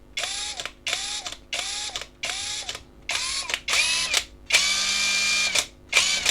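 Dagmara TD172 impact driver triggered in a series of short bursts, each a loud whining motor spin-up with a rising pitch, followed by longer runs at varied speed, close and alone.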